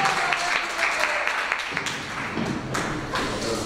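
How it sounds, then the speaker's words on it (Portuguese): A worship congregation claps together in praise during a church service, a lively, continuous run of hand claps with some thumps and voices blended in. "As palmas que louvam e exaltam o nome do Senhor Jesus."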